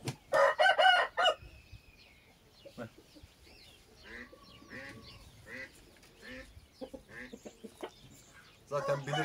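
An Indian-breed stud rooster crows loudly just after release, followed by softer clucks and scattered poultry calls, with someone talking quietly in between.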